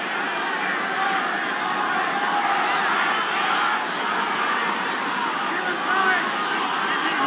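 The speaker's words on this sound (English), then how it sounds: "Only cheering from the Queensland side" Large rugby league crowd at a 1984 State of Origin match between Queensland and New South Wales, a continuous dense roar of cheering and babble from the stands, steady and distant-sounding.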